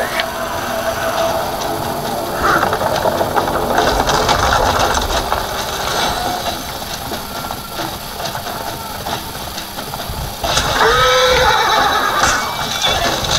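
A horse neighs during a chase in the video game For Honor, a whinny rising out of a dense mix of clattering, ratcheting mechanical game noise, loud and near, with a second burst near the end.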